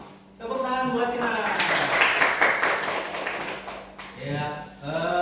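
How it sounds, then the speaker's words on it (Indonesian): Classroom applause for a student, a short burst of clapping from pupils that swells and fades after a few seconds, with a teacher's voice speaking before and after it. "Tepuk tangan buat Tina"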